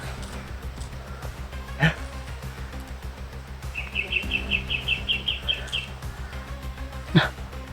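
Two harsh crow caws ring out several seconds apart outdoors, with a rapid series of high chirps from another bird in between, over a low steady background rumble.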